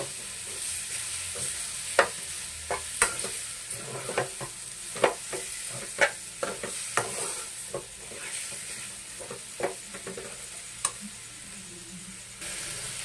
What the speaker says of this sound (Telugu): ఒకసారి మంచిగా కలిపేసుకుందాం అంతా